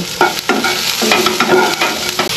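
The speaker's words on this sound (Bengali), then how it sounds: "তেলের ওপর পেঁয়াজ আর শুকনো লঙ্কা, হলুদ গুঁড়ো সব একটু ভালো করে ভেজে নেব।" Onion, dried chili and turmeric frying in oil with cumin seeds, a loud, steady sizzle close by, broken by repeated stirring strokes, with no voices.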